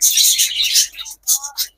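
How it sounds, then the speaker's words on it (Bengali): Dove calling close by at a home bird farm, a few short bright call bursts that stop and restart, with no talking. "এই যে পাশে দেখছি আবার ঘুঘু ডাকতেছে"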